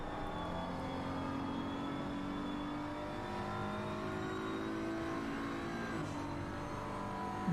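BMW M4 GT3 race car on track, a faint, steady engine drone with sustained harmonic tones that shift slightly in pitch, heard at a distance with no talking.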